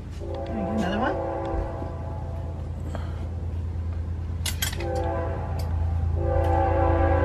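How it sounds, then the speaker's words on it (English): A train rolls past close to an Illinois Army Corps of Engineers campground, a loud steady rumble with repeated horn blasts sounding near and strong over the whole stretch, and a voice briefly heard early on. "So the trains go by here so often that you don't even notice them."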